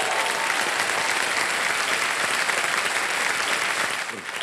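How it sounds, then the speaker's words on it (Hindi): Studio audience applauding throughout a Kaun Banega Crorepati quiz show taping, a dense, steady wash of clapping that holds level and then thins slightly at the very end. "सर आप लोग कभी ताली बजा दिया कीजिए ज्ञान की बात"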